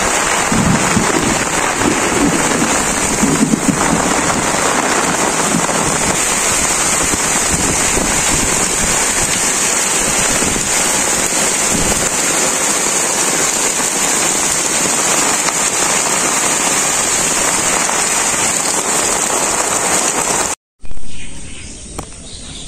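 Rain falls steadily on a village during a rainy day, a loud, dense patter of drops on surfaces that carries on almost unbroken until it cuts off abruptly near the end.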